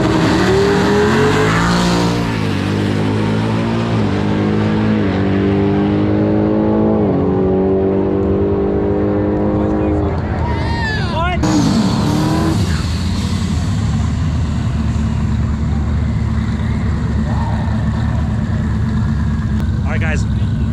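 Cars race and rev hard at an Oklahoma City street car takeover, engines rising and falling through gear changes with a sharp swept pass near the middle, loud and close amid crowd noise, with voices heard.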